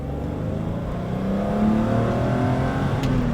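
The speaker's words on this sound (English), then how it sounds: "And when you're accelerating, you get some induction noise, but I don't think it's not very loud. And you get some exhaust noise." BMW E34 M5 with the 3.8 engine accelerating from inside the cabin, a steady engine drone rising in pitch and loudness midway as exhaust and induction noise build.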